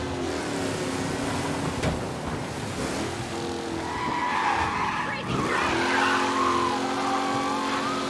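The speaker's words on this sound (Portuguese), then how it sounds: "O carro é muito rápido, você não tem noção." A fast car in Mafia: Definitive Edition roars along with its engine droning steadily while tires skid and squeal in long sweeping bursts, loud and close, with someone talking over it.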